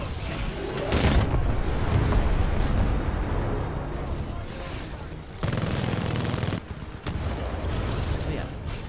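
Heavy bombing explosions and gunfire rumble almost continuously in the video game Titanfall 2. Loud booms and bursts surge and drop in dense waves.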